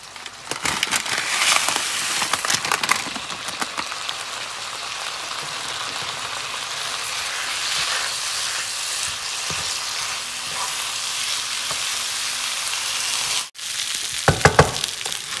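Rice frying in a hot pan on the stove, a steady loud sizzle with crackling bursts running throughout, briefly cutting out near the end, with no talking.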